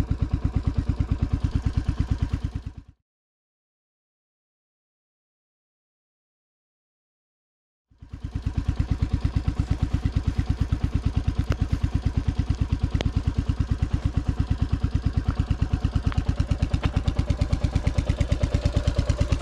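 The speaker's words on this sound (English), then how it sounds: "Absolutely love the noise of this bike." A Royal Enfield Classic 350 motorcycle engine running on a commute home, a loud, steady thumping single-cylinder throb close up that cuts out to silence for several seconds, then returns and carries on evenly to the end.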